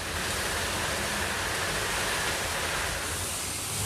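Water rushing steadily through a tunnel, flushing rock debris down past a screen; a dense, continuous roar without pause.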